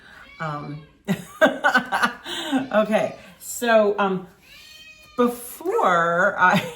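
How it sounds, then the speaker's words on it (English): A house cat meows repeatedly in drawn-out, rising calls, close by, with a woman's brief speech between the cries. "she's just going to keep meowing until somebody picks her up again."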